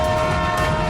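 A cartoon train sounds a short, sustained horn-like tone over a low rumble, loud and close for about a second.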